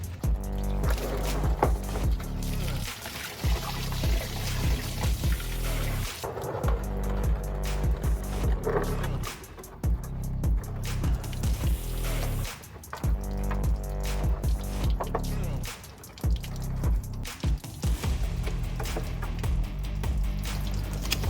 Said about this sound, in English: we're gonna drain it out again, and this is my final drain.